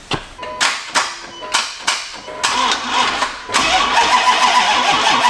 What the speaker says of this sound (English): So we're gonna do our first little crank over here.